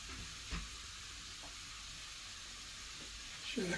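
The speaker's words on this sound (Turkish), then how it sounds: "Evet, turpumuzu 10 dakika kavuracağız değerli arkadaşlar şöyle." Radish sautéing in a pan, a steady low sizzle and frying hiss running throughout at moderate level, with a couple of faint stirring knocks and a brief louder burst near the end.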